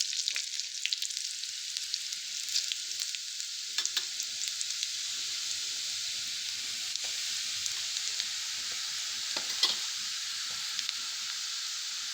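Finely chopped garlic sizzles and fries steadily in a hot pan for Vidarbha-style spinach bhaji, a constant close hiss with occasional stirring clicks and scrapes, no talking.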